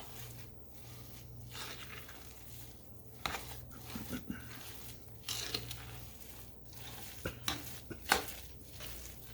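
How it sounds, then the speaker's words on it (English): Dressing stuffing with rosemary stirred in a pan, faint spoon scrapes and soft clinks against the pan at irregular intervals over a quiet low hum. "So let's stir this up."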